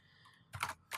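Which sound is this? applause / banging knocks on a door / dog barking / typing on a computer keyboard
typing on a computer keyboard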